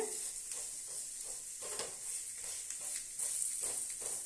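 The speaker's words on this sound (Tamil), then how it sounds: "ஒரு பக்கம் வேகட்டும் வெந்த பின்னாடி திருப்பி போட்டுக்கலாம்" Ragi adai made from finger millet flour sizzles steadily on a hot pan over a medium flame, giving a continuous bright frying hiss with a few faint stirring or scraping touches and no talking.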